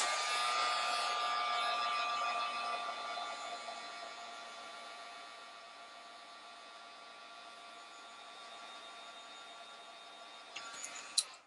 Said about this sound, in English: And then I just go ahead and give it a quick heat set.